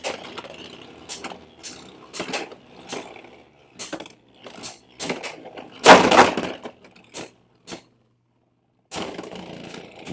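Beyblade X spinning tops, Scythe Incendio against Phoenix Wing, clash in a battle: a close series of sharp plastic clicks and knocks, one loud grinding collision burst near the middle, then brief quiet before more hits.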